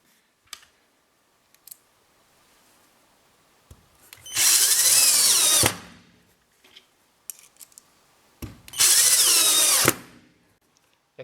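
A Vitals Master AUmo 10nli cordless screwdriver on its second speed drives screws, two loud buzzing bursts of about a second and a half each, separated by quiet clicks and handling noises.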